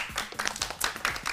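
A studio audience claps for a group of girls on a children's TV show, fairly close, a brisk patter of hands with a few loose, uneven claps.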